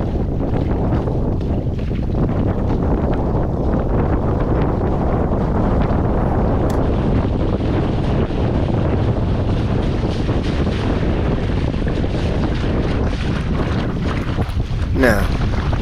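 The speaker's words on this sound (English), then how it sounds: "Now, I'm gonna do a little bit more sailing." A Mini Sunfish sailboat moves under sail in steady wind, with constant loud wind rumble buffeting the microphone over washing water and hull noise for the whole stretch.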